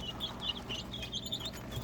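Young Yeonsan Ogye chicks hatched from an incubator, chirping in quick, high-pitched peeps repeated throughout, fairly close over a low background hum.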